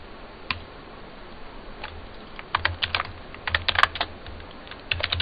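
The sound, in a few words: typing a sudo command on a computer keyboard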